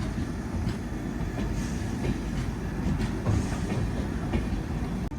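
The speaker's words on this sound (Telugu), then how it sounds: "అటుపక్క ఏదో ట్రైన్ ఇప్పుడే వచ్చింది" The Vivek Express, running from Dibrugarh to Kanyakumari, rolls in on the adjacent track beside a stopped train. Its deep rumble and wheel clatter fill the whole stretch at a steady, loud level.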